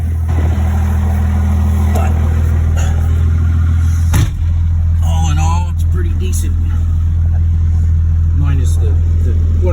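A 24-valve Cummins diesel truck engine idles with a deep, steady, loud rumble that runs continuously, with a brief louder knock partway through, while someone talks close by over it.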